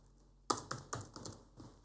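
Keys clack on a computer keyboard in a short burst of typing, a quick run of crisp, close taps with small pauses, alone in a quiet room.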